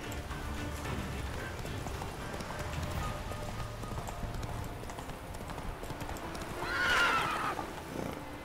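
Roach, Geralt's horse in The Witcher 3, gallops with steady clip-clop hoofbeats under game music, then lets out a loud neigh near the end.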